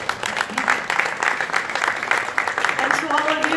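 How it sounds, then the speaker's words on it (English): An audience claps at a boxing press conference in New York City. The applause is close and steady, a dense patter that holds for a few seconds with some voices mixed in. "applause, please."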